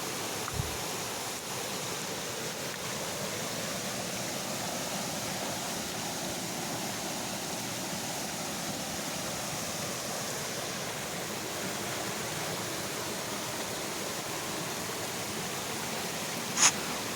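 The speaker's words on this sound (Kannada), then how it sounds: "ನೀರು ಹರಿಯೋ ರಭಸಕ್ಕೆ ಎಷ್ಟು ನೊರೆ ಬರ್ತಾ ಇದೆ ನೋಡಿ." Water rushes steadily down a small waterfall and stream over stones set by a forest department, churning up foam near Neer-Arbi; a constant broadband roar continues unbroken, with a faint click near the end.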